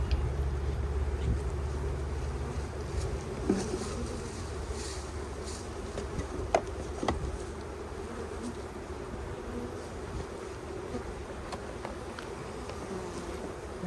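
Honey bees hum in a steady, continuous drone as a package of bees is installed into a hive, with occasional faint knocks and handling sounds over the buzzing.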